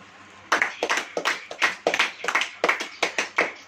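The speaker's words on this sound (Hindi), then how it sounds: "अब ताली बजाओ" A church congregation claps along during a Hindi sermon: a steady run of about a dozen sharp, even handclaps that start suddenly and ring out close and loud, with no voice over them.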